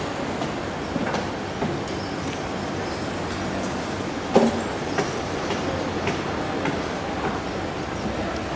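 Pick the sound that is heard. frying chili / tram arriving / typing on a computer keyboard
tram arriving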